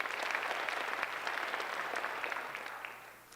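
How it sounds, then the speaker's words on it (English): An audience at a high school senior awards ceremony claps in sustained, moderately distant applause that fades slightly toward the end. "so let's give her a round of applause"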